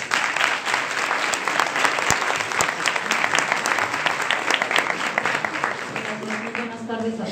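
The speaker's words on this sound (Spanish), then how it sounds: "Un aplauso para ella, por favor." Steady audience applause at a Spanish conference on Catalonia fills the hall for several seconds, dense and even, easing slightly at the end.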